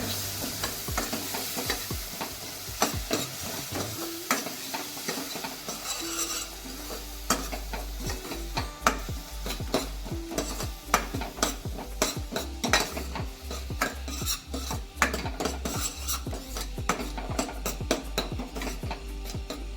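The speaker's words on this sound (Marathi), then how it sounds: "एक दोन मिनिट चांगलं परतवून घ्यायचं" Ingredients for a sweet-sour raw mango dish being stirred and sautéed in a pan, with a continuous sizzle under frequent scraping and clinking of a utensil against the pan, close and without talk.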